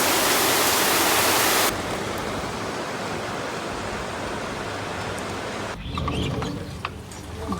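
Torrential heavy rain pours down in a dense, steady roar that is loudest for the first couple of seconds, then settles into a constant rushing hiss with some faint birdlike chirps near the end.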